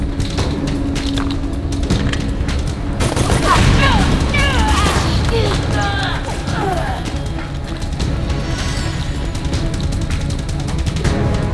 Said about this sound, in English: My heavy machine gun.